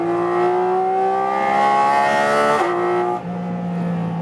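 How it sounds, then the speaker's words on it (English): A Porsche 718 Cayman GT4 RS with a naturally aspirated engine revs loud and close, its tone climbing steadily before a sharp shift, then dropping to a lower, steady drone. "I love the naturally aspirated engine. It has such a natural output."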